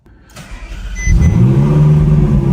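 A crashed supercar's engine, fitted with a new battery, cranks briefly and then catches, building into a loud, steady running rumble with a slight rev, close by with no talking.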